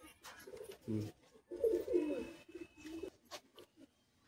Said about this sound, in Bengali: কি পায়রা দেখাচ্ছ এটা? এটা কালদুম আর ছিটকালদুম।